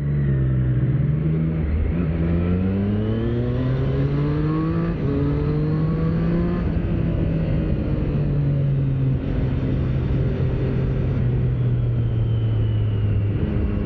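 A 2025 Triumph Street Triple RS motorcycle ridden through traffic, its engine droning steadily with rising and falling pitch as it revs and shifts, loud and continuous with rushing wind, no talking.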